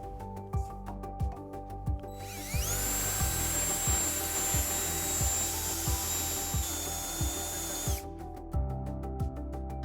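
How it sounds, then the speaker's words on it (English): A power drill with a 1/2-inch bit bores a hole through a 2018 Jeep Wrangler frame, whining steadily for several seconds between quieter stretches of a rhythmic ticking background, close and loud. "we are going to drill out this remaining hole using a 1/2-inch drill bit"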